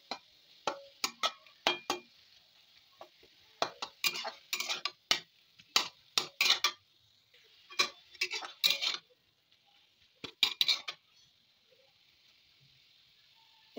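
A knife cutting softened pineapple pieces inside a pot, giving irregular clicks and scraping taps in short clusters, fairly close but quiet, with silent gaps between strokes.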